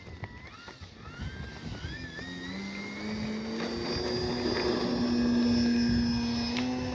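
Hangar 9 10cc J-3 Cub radio-controlled model airplane taking off into the wind at dusk, its small gas engine revving up into a rising, steady buzzing drone that grows louder as it climbs away, alone without talk.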